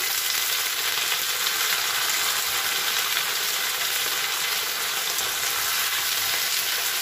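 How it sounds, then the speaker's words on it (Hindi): Radish and onions fry in a pan, giving a loud, continuous hiss of sizzling oil that stays even and close throughout, with no voices. "मूली हमारा थोड़ा फ्राई हो गया है"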